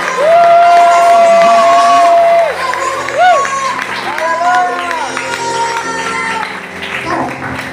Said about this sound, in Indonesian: Tepuk tangan terus buat Tuhan Yesus.